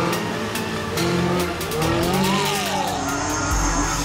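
A race car brakes lightly and turns into a corner on the Lessay circuit, its engine droning steadily with a rising and falling whine through the bend, loud and close throughout.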